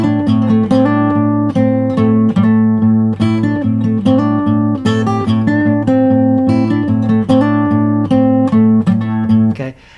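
Electric guitar working through a repeating blues answer phrase with slides, a loud, close, steady groove of plucked notes over a droning low string, no voices.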